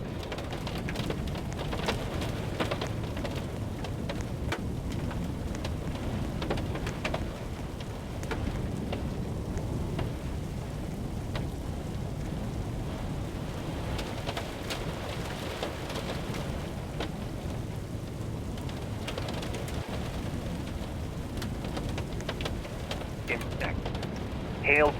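Steady, even rain pours from a severe thunderstorm in a storm-chasing video game. It holds at the same level throughout, with no clear thunderclap standing out, while a voice speaks over it.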